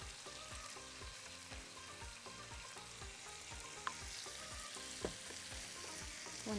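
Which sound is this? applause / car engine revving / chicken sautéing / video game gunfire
chicken sautéing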